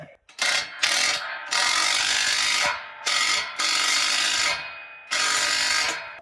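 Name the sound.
fence wire being tightened with a ratchet strainer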